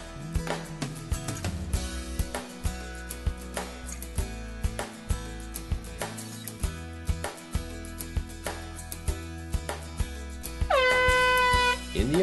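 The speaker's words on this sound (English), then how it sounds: "a continuous blast from our air horn alerts all personnel to stop what they are doing" An air horn at a grain facility sounds a continuous blast for an emergency evacuation, rising loud near the end over a steady background of rhythmic clicking and knocking.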